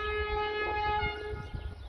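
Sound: freight train passing in Portugal

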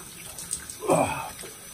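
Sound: cold water running from a tap

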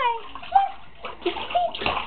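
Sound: baby kicking and splashing in bath water

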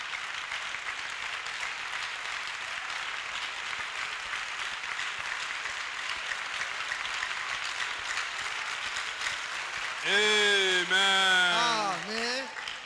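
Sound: congregation applause and clapping at church service

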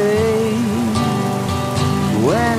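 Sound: rain sound added to acoustic music

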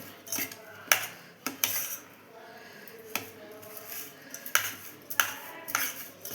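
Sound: mixing crushed peanuts into sago vada mixture

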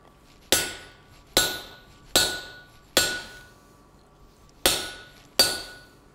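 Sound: hammer blows forging a steel punch

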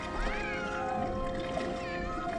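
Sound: cat meowing in a cartoon

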